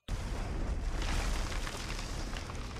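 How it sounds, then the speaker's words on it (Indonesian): A sudden loud blast of exploding gas canisters erupts at the start and rolls on as a sustained, roaring rumble with crackling debris. "ledakan hebat"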